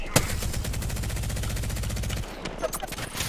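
Sustained fast automatic gunfire in a multiplayer shooter video game, loud, dense and rhythmic for about two seconds, then scattered shots and impacts with a voice faintly in the mix.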